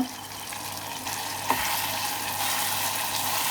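Steady sizzling of prawns frying in hot oil, with a soft scrape of stirring partway through; no voices.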